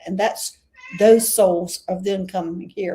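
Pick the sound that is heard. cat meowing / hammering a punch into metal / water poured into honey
cat meowing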